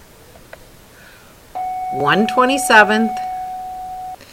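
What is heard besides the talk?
buzzer going off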